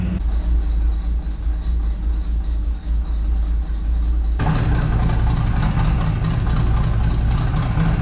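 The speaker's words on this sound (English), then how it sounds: "All I did was turn in the throttle screw, just to keep it idling." A cammed small-block V8 truck engine, just installed and on its first start, runs with a loud, lumpy idle that has a steady low rumble. Partway through it gets noticeably louder and rougher, with no voices.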